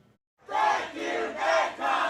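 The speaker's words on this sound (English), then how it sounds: "A crowd of Hollywood writers burst into celebration as word spreads of a tentative agreement with the major studios." A crowd of Hollywood writers erupts in celebration at a tentative agreement with the major studios, with loud cheers and shouts rising in repeated swelling waves after a brief quiet start.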